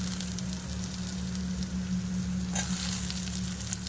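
Brinjal frying with onions in a pan gives off a steady, dense sizzle throughout, with a brief scrape of stirring near the end and no voices.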